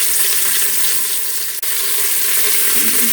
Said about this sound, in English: you're going to hear a lot of sizzling, but I'm getting ready to turn it